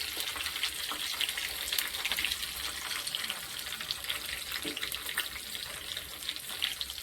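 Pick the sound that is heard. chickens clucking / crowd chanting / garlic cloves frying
garlic cloves frying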